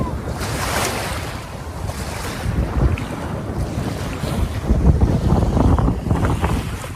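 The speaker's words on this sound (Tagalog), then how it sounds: "medyo mahangin pa nga ano eh." Strong wind buffets the microphone in continuous rumbling gusts, with water and waves washing nearby at a campsite in Canada.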